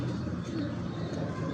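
A breeder's pigeon pair cooing, low soft coos under faint background noise and a quiet voice in a brief, close recording.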